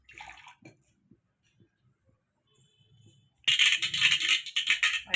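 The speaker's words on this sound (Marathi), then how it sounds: "पाणी द्यायचे पाणी देते" After a few faint clinks, water suddenly gushes and splashes into a pan, loud and close, continuing for a couple of seconds.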